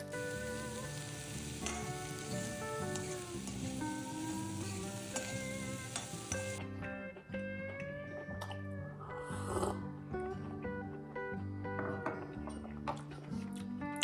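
Saag with onion, ginger, coriander and green chilli sizzles and frying steadily in a pan, a continuous crackle heard throughout under louder background music.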